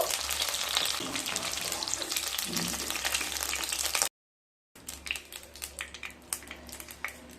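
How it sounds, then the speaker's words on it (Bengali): Capsicum frying lightly in a pan gives a loud, continuous sizzle, then cuts out briefly and returns softer with scattered crackles and pops. "ক্যাপসিকাম গুলোকেও হালকা ভেজে নিয়ে তারপর ফিরে আসছি"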